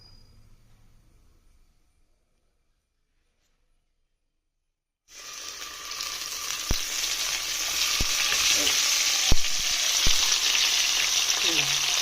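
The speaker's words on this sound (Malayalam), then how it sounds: "ഇനി നമുക്ക് വെളിച്ചെണ്ണയിലേക്ക് ഇട്ട് കൊടുക്കാം." Crushed tomato, shallots and ginger hit hot coconut oil with a sudden loud sizzle after near silence, then keep up a steady close frying hiss broken by a few sharp spatula clicks against the pan.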